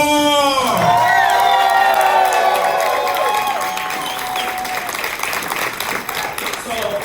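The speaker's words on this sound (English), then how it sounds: "Give it up for Jeremy Moore!" A crowd at a motivational speaking event bursts into loud applause, cheering and whoops as a speaker is introduced. A tonal music sting opens the clip, then sustained clapping and shouting carry through and ease slightly toward the end.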